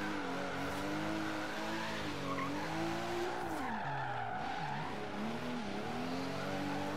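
A BMW Z4 drifts sideways on all four wheels in Forza Horizon 3, its tires squealing continuously with wavering pitch over a steady engine drone.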